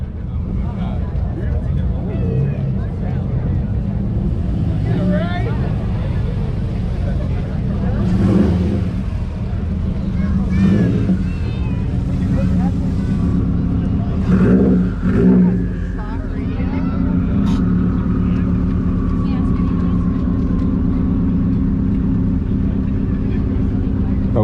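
A 2008 Subaru WRX with a big front-mount intercooler revs its exhaust at an exhaust competition, a loud continuous engine roar with swelling throttle blips over crowd noise and voices.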